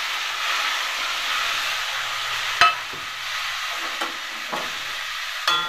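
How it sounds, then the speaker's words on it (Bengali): Cut pumpkin pieces frying in hot oil seasoned with turmeric, a steady bright sizzle that stays even throughout, broken by a few sharp clicks and knocks from a stirring utensil, heard close up with no talking. "এই দেখুন ভাজা হচ্ছে"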